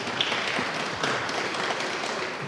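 Soft applause from the audience at a candidates' forum, a brief patter of many hands clapping at a moderate distance, fairly quiet and steady throughout.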